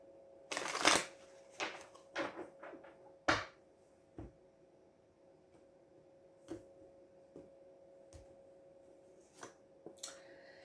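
Tarot cards being shuffled by hand, a few bursts of riffling and slapping near the start, then scattered soft card taps and flicks over a steady faint hum.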